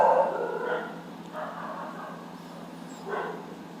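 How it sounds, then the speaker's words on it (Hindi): Dogs bark in the background, a few separate barks spaced out over several seconds at moderate distance. "कुत्ते भौंक रहे हैं"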